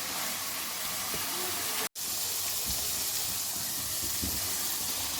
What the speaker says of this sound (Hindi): इसमें मैंने 1 प्याली दही डाला